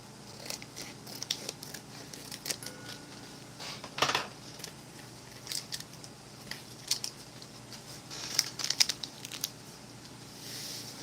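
Scissors cut open the bag of a Russian mountain 24-hour ration meal, which has no tear notch, with close crisp snips and crinkling plastic scattered through the clip and one sharper cut near the middle.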